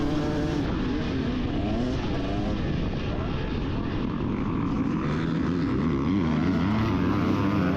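Dirt bike engines roar together at the start of a 2024 GNCC off-road race at Round 3, The General, in the 250C class, a dense, sustained drone of many engines close by.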